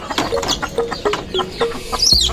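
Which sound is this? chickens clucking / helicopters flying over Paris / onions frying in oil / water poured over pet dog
chickens clucking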